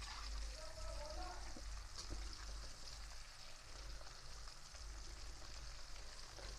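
Ingredients for chicken kung pao toast lightly in frying oil, giving a steady, even sizzle with faint crackles that runs throughout. A voice speaks softly over it at times.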